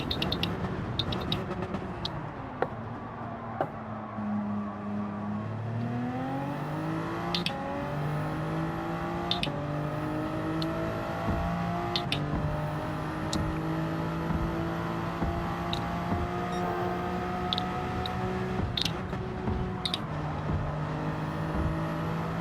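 A race car engine in Gran Turismo 7 drones at high revs, dropping in pitch and climbing again through downshifts, with the whine sweeping steadily alongside scattered clicks.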